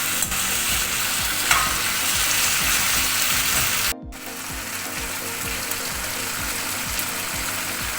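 Okra simmers in a tomato masala with pepper and ginger-garlic paste while a spoon stirs it in a pan. A dense, continuous close sizzle carries scraping stir strokes, with a momentary drop midway.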